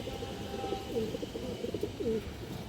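Pigeons, including female birds kept for sale at a Bangladeshi pigeon market, coo in a soft repeated series of low throaty calls, moderately close and steady against a busy background hum.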